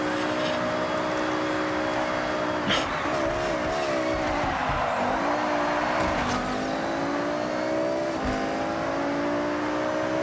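A BMW race car in the video game Forza Horizon 6 drones loudly and continuously, its engine note rising and falling through gear changes, with occasional tire squeal and scrapes during the race.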